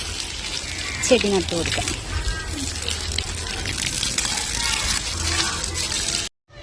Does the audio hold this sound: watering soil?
yes